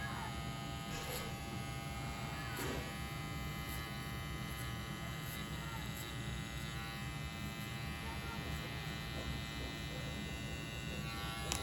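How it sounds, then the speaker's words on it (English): An electric hair clipper with its lever open buzzes steadily and close throughout a taper haircut, a constant whining hum with faint scraping as it passes through hair. "we're gonna take our our clipper, with the lever open"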